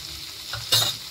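A spoon stirs tomato and turmeric through frying cluster-bean (gavar) vegetables in a pan, giving a steady soft sizzle with a brief louder scraping stir near the end.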